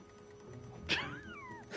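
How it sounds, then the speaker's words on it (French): Cat meowing in the horror cooking game Ravenous Devil, a single drawn-out, rising then falling meow heard near over a quiet background hum. "C'est le chat qu'elle va cuisiner"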